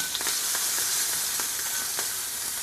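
Small squid (chipirons) fry in a hot pan with a steady, close sizzle, broken by faint clicks and stirring taps, with no talking.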